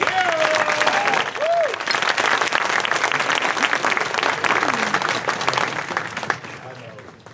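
Sustained applause from a crowd at an annual installation and awards banquet, a dense wash of clapping with voices and cheers rising over it, fading slightly toward the end.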